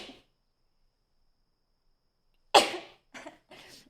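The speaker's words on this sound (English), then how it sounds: "Oh, I gotta sneeze" One sharp, close sneeze bursts out loudly, followed by two softer short after-sounds, set against near silence.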